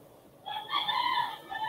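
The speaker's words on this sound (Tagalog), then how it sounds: "Sorry, may manok po." A chicken nearby gives a short, loud squawking cluck lasting about a second, standing out over a quiet room.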